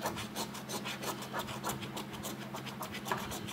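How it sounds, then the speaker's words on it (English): Rapid rhythmic scraping strokes of a coin rubbing the coating off a $1 million lottery scratch card, close and quiet, repeating steadily throughout. "I'm going to go ahead and start scratching off"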